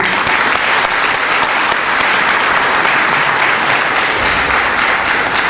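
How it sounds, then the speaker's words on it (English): Dense, steady applause from a large audience at a public debate, loud and sustained without pause, filling the room with continuous clapping and no voices on top. "please give yourselves a round of applause."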